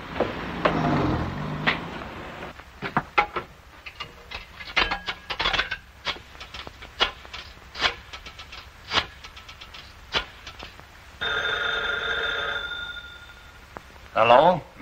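An old-fashioned telephone bell rings in short bursts, loud and close, with a final ring at the end, between stretches of quiet room sound and brief voices.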